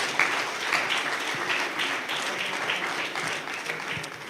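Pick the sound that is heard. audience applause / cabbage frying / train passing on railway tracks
audience applause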